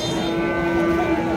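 A Sahiwal bull at a cattle market lets out a long, steady, fairly close moo that holds across the moment against a murmur of market noise.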